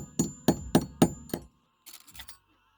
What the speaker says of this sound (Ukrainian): Б'єте молотком, ось, молоточком простукуєте